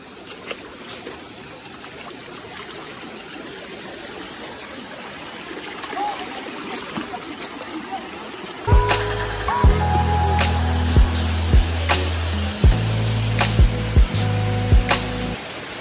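A stream of water flows steadily near the Chota Amarnath Mahadev temple in Indore, a soft constant rushing that continues while loud, sustained tonal ringing enters about halfway and largely covers it.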